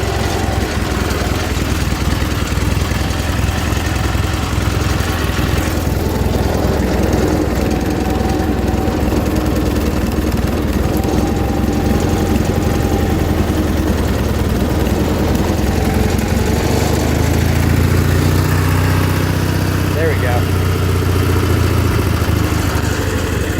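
A John Deere 316 lawn tractor engine with a faulty carburetor runs continuously nearby, a steady, loud mechanical drone with an uneven, rough undertone and no talk over it.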